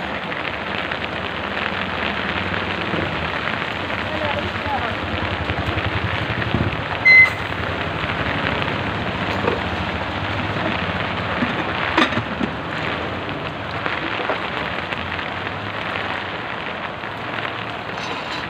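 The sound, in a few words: heavy rain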